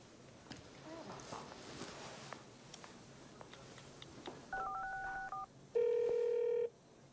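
Touch-tone telephone keys beep in a quick series as a number is dialed, followed by a longer steady tone, heard fairly close over faint room noise and light footsteps.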